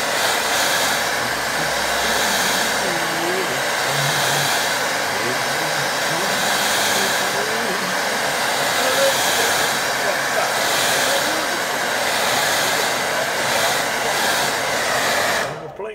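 A hair dryer blows steadily on a wet watercolour woodland painting, a loud close rushing roar that holds constant for about fifteen seconds before cutting off abruptly, with faint muffled speech beneath it.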